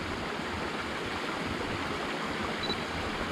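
Water pours steadily from a waterfall beside a trail in the Ballyhoura Mountains. The rushing hiss is continuous and even, fairly close and moderately loud, with no voices.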